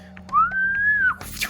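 A single clear whistle glides up and holds steady for most of a second before dropping off, standing alone over a faint low hum.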